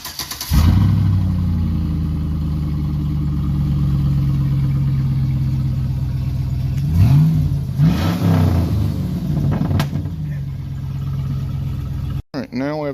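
A 2005 Chevrolet Silverado engine runs with no muffler, a loud, deep idle that rises briefly in a couple of throaty revs before settling back, up close and alone.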